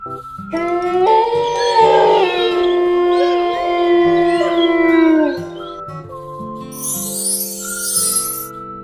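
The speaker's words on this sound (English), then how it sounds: "Wolf." A wolf lets out a long, rising and falling howl, loud and close, followed after a pause by a second, shorter howl over a soft, steady background.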